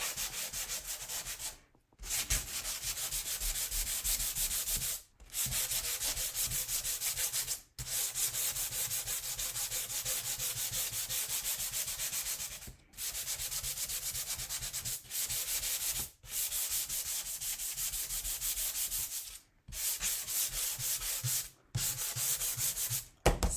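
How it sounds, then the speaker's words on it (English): Wood being sanded smooth for a spring bird's nest craft, with long continuous scratchy rubbing strokes broken by brief pauses, close and steady throughout with no talking. "So I'm sorry, I'm sanding."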